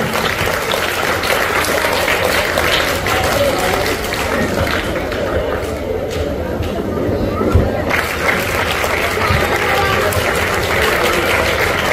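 Audience applause fills the hall at an Eid-e-Milad speech competition held in Bhusawal, steady loud clapping from a large crowd that continues throughout, with a brief swell near the middle.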